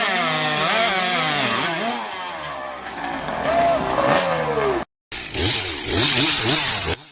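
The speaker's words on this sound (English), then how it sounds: "A lumberjack steps into the forest, armed with the powerful steel MS-362 chainsaw." Steel MS-362 chainsaw cutting into a tree trunk in a forest, its engine a loud, steady buzzing whine that shifts in pitch as it bites the wood, with a brief cut-out near the end.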